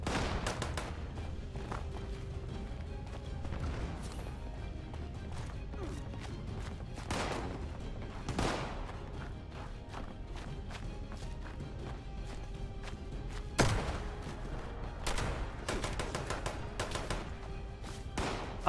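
Weapon fire in Fallout 76: sharp broadband bursts scattered through a busy game mix, a few louder cracks standing out near the end, with faint thumps and movement between shots.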